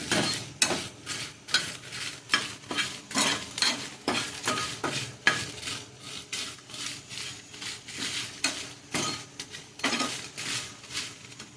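Crab pieces for Mangalore-style crab sukka frying in a pan, a steady sizzle broken by rhythmic scraping and stirring strokes, close and fairly loud, with no talking.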